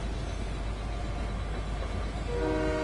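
Train in a video game, a steady rumbling roll of wheels and carriages that holds constant throughout, with a sustained horn-like tone rising in near the end.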